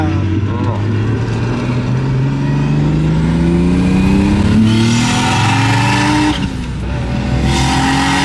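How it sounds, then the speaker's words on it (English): A car engine revs up and down during a rev-matched downshift, a loud continuous drone with rising and falling pitch, heard from inside the car while people talk over it. "look at you, little rev match"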